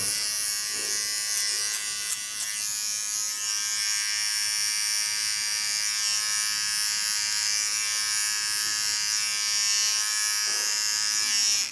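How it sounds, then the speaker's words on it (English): Small electric hair clipper buzzing steadily close up while cleaning the contour of a short haircut, a continuous even drone with no talk. "Go into my small clipper. Clean the contour."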